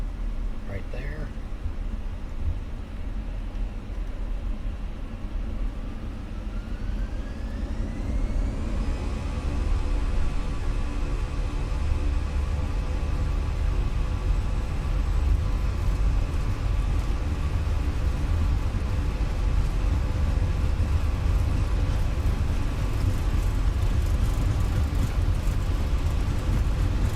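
Airliner jet engines in Microsoft Flight Simulator spool up to flex takeoff thrust. A low rumble swells into a rising whine that settles into a loud, steady roar, with a droning cockpit ambience underneath.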